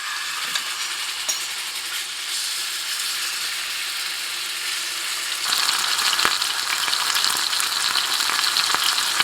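Meat strips fry in piping hot oil in a pan, a continuous loud crackling sizzle that grows fuller and harsher partway through, with faint scraping.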